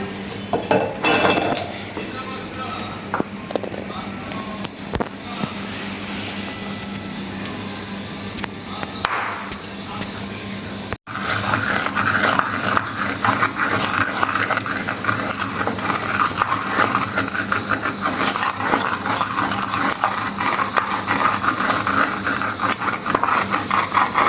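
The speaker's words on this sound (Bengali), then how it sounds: "আমি এইটাই করে সবসময় এই জিরাটা বেটে নিই।" Cumin seeds ground on a grinding stone, starting with quiet clinks and scrapes, then a loud, steady, gritty rubbing that runs without a break for the rest of the time.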